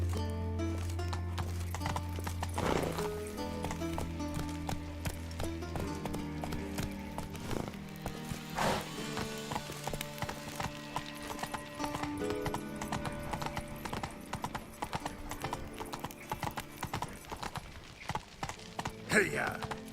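Hooves of Roach, the horse in The Witcher 3, clip-clop in a fast, steady gallop with a brief neigh, over a continuous bed of game music and ambience.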